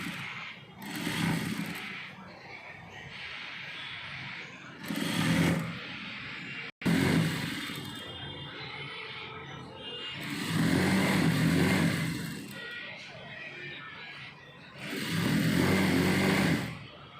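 Sewing machine running straight stitches on fabric, several bursts of rapid mechanical whirring and clatter separated by quieter pauses, near and fairly loud, with one sharp click partway through.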